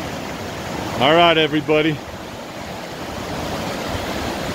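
The Poudre River in Fort Collins, Colorado flows on an April afternoon, a steady, close, broadband rush of water that fills the whole stretch, with someone briefly speaking over it near the start.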